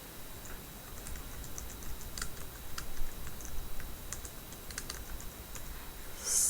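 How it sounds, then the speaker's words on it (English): Quick, irregular clicking of keys on a computer keyboard while someone types into a search box, a steady run of light taps heard alone at moderate volume over a faint background hum. "on your computer keyboard, just press enter"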